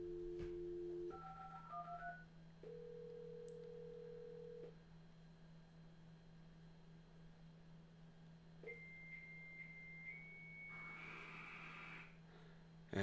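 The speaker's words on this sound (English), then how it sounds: "So now with that, we can go over here to Altera, and I can dial in" An Atari 8-bit with a FujiNet dialing into a BBS: a quick run of touch-tone dial beeps, a steady tone, then stepped modem handshake tones ending in a hissy burst, clear over a constant low hum.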